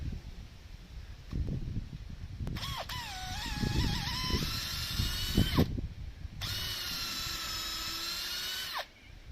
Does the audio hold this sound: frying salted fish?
no